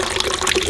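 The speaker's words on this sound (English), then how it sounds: "So right now there is some water is coming out" Water running out of a residential water heater being flushed after the supply has been shut off, a steady broadband rush of flowing water lasting under a second with no speech.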